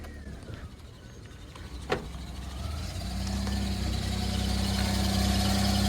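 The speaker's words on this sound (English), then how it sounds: "starting the car and hearing that sound really drives me insane" A Suzuki Cappuccino starts up, a sharp click followed by the engine settling into a steady idle with a persistent belt whine or hum rising and holding, close by.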